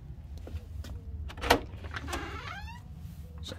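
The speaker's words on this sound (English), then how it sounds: "So heading in through the front door" A front door of a bungalow in Necton, Norfolk opens with a sharp latch click and a brief creaking swing, followed by faint rattling, heard close with no talk.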